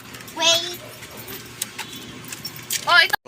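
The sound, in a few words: keys jangling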